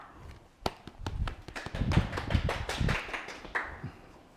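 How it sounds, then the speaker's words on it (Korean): Sparse, uneven clapping from a small audience at a science lecture, individual claps audible at first before building into a brief patter that tapers off, fairly close and moderately loud. "다시 한번 큰 박수 부탁드립니다"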